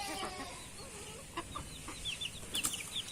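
Backyard hens with their chicks gather at feeding time, clucking softly and intermittently with a few sharper calls over a steady low background murmur.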